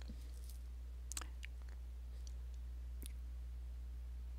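A few quiet computer mouse clicks, single and paired, sound sparsely over a steady low electrical hum, with no talking.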